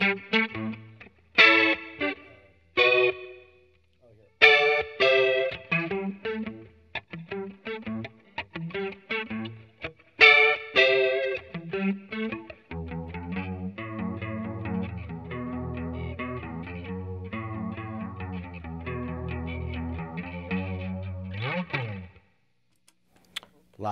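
Electric guitar played through a chorus effect pedal on a pedalboard, loud and close: a few strummed chords and single notes at first, then a long run of sustained, shimmering picked notes that stops abruptly near the end.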